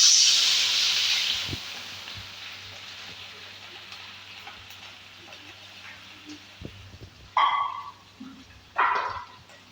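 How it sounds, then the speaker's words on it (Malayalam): Spring onion stalks and curry leaves for a thoran hit a hot pan with a loud, close hiss that fades to a soft sizzle, then two brief bursts of crackling flare up near the end. "പിന്നെ നമ്മളത് മുറിച്ച് വെച്ച ഉള്ളിത്തണ്ടും ഇതിലേക്ക് ഇട്ട് കൊടുക്കാം"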